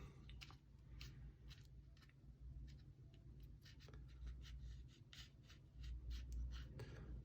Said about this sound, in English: just kind of push out to make this bulb shape in your paper